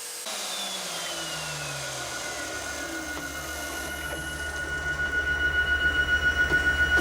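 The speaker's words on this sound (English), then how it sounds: "I'm going to go ahead and change the bit, and then we'll start milling the back here" A CNC router mills the back of a circuit board, its spindle whining steadily with a rising mechanical drone and a faint high tone, growing louder and pulsing rhythmically toward the end, with no voices.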